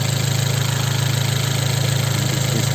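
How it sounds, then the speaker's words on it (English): An Abarth 124 Spider's MultiAir turbo engine idles under an open bonnet, a loud, steady low hum with an even pulsing throb, close up and continuous, with no voices over it. "As you can see, the engine is running. It's smooth, beautiful."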